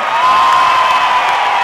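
Concert crowd at a show cheering and applauding, a dense, loud, steady roar with whistles and shouts mixed in, no distinct voice over it.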